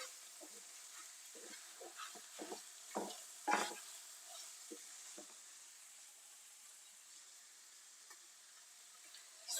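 Ground meat and paprika being stirred in a pan, quiet scraping strokes over a faint sizzle, with a few clearer scrapes near the middle and no talking.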